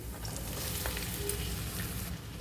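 Long-cut ivy gourd pieces tumble into hot oil and fry with a loud, continuous crackling sizzle, steady and close throughout, with light stirring and no talking.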